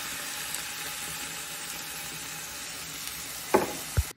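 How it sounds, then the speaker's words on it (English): Crushed tomatoes sizzle in a pan with chopped red onion for a chicken parm sauce, a steady soft frying hiss that runs throughout, then two brief clunks of a spoon or can near the end. "You're gonna add in one can of crushed tomatoes."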